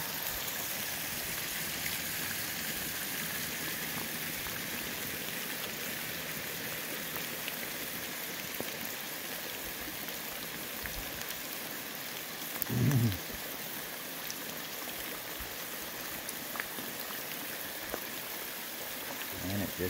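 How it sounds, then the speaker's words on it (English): A small waterfall at Tippy Dam flows on a rainy day, a steady, fairly faint broadband rush of water that holds evenly throughout, with one brief louder bump midway. "I now have this scenic little waterfall here."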